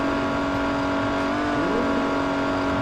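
Race car engine droning steadily in Midnight Club 3 DUB Edition Remix, a loud sustained whine that climbs in pitch as it revs up, with no talking.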